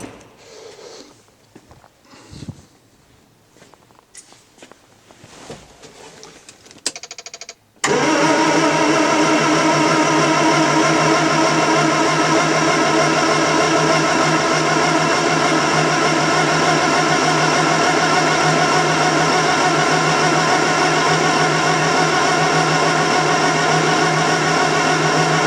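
A freshly rebuilt car engine cranks over, catches and starts, then settles into a loud, steady idle that runs on without a break.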